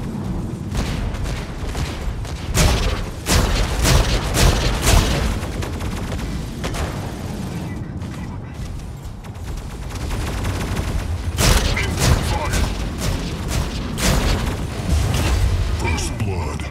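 Heavy incoming gunfire and explosive booms in the mech combat game Mech Arena, dense repeated bursts of shots and blasts at loud close range, with brief bits of talk among them.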